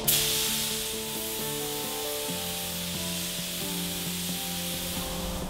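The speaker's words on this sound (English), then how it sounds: "shooting the same pearl blue over sealer black" Spray gun laying pearl blue pearlescent paint over a black sealer coat, a constant hissing air spray running the whole time beneath steady background music, no voices.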